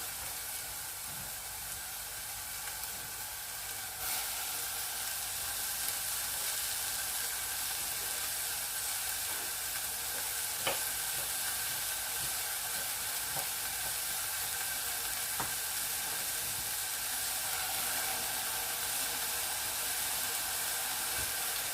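Onions sizzling in a pan, a steady broadband hiss of frying that continues evenly throughout with a few faint clicks and no talking.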